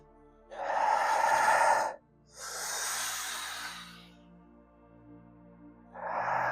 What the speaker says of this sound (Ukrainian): Дихання дуже глибоке,